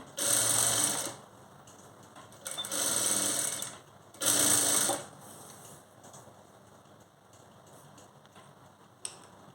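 A sewing machine stitches a designer blouse with a cross belt in three loud, close bursts of rapid mechanical whirring, separated by quieter pauses with faint handling sounds.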